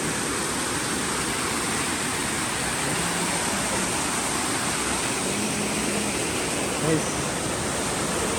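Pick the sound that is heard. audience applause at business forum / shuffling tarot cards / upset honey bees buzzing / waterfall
waterfall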